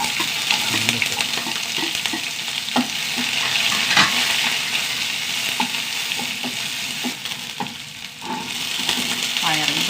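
Green chillies, curry leaves and small shallots frying in hot oil, a continuous loud sizzle and crackle with stirring scrapes throughout, close up.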